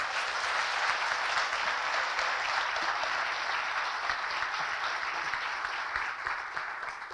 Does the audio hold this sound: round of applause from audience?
yes